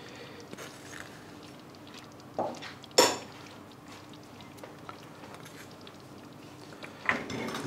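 A spoon stirring paneer butter masala in a pot: quiet scraping against the pan, with a few sharper metallic clinks standing out at intervals over a low, steady background hum.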